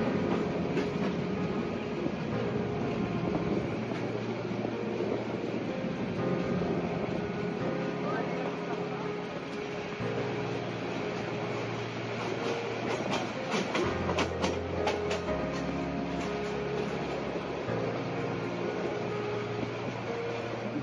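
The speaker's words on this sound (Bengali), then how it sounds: "জয়দেবপুর স্টেশন ক্রস করার পর আমরা এখন ঢুকতেছি টঙ্গী রেলওয়ে জংশন স্টেশনে" The Tista Express passenger train runs on the Dhaka line near Tongi junction, heard from inside as a steady loud rumble of wheels and carriage with faint rail clicks and a low engine drone throughout.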